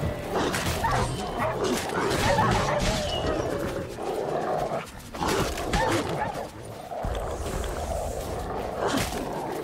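Dogs bark and yip in The Witcher 3: Hearts of Stone during a fight, loud and dense, mixed with whimpers, thuds and game noise, with a voice talking briefly over the racket.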